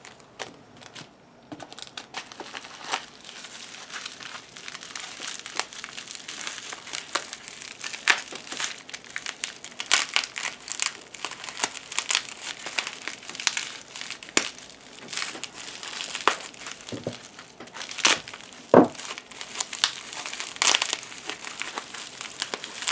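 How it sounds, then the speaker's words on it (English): A heavily taped mystery-box package is torn open by hand: nonstop close crinkling, crushing and ripping of tape and cardboard for over twenty seconds, busy and uneven, with no voices. "This is really well taped. Because I'm having a hard time opening it."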